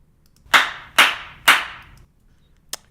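Three sharp hand claps used to sync footage for green-screen work, evenly spaced about half a second apart with short decaying tails, then a fainter fourth snap after a pause.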